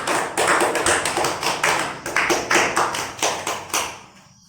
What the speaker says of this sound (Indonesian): Beri aplaus untuk Indra Pratama